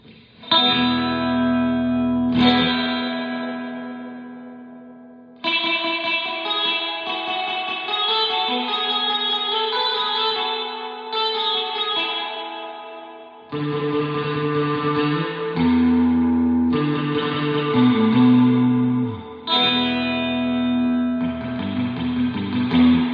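Electric guitar notes and chords drenched in wet, drippy surf reverb from a Surfy Industries SurfyBear Compact reverb pedal, each strum ringing out with long echoing tails, played alone.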